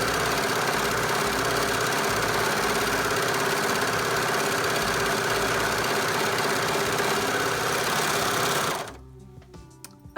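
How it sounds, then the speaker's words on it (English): A serger sewing machine runs steadily and loudly while finishing the fabric edge of a pillowcase, a continuous fast mechanical whir lasting about nine seconds before stopping abruptly, followed by a few faint clicks. "I finished this edge on my serger"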